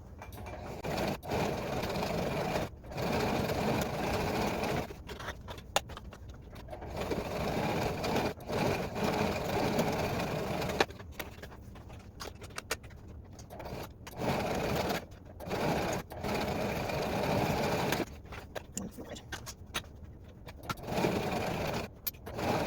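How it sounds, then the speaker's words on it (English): A sewing machine stitches straight lines to attach elastic flat onto fabric, running in steady continuous bursts with short pauses between passes, close and fairly loud, with no talking. "So what I'm going to do is now go ahead and sew straight down those lines."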